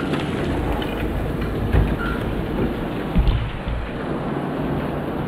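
Steady rain pours onto a pool screen enclosure over a pool deck, a dense, loud, continuous hiss with a few faint low thumps and no voices.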